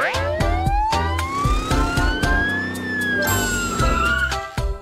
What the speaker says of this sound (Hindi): मैंने दूसरी एम्बुलेंस बुलाई है।